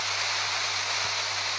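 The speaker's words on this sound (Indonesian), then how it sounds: "Wah, ada air terjun coy." Waterfall in a Roblox video game, heard as a steady broadband rush of falling water. The roar is constant and fairly loud, with a faint low hum underneath.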